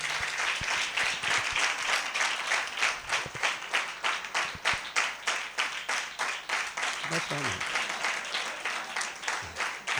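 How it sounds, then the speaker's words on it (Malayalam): A church congregation claps steadily for an award presentation, a fairly faint, even, rhythmic patter of many hands continuing throughout, with a brief low voice or two underneath. "നന്നായിട്ടൊന്ന് ക്ലാപ്പ് ചെയ്തേ"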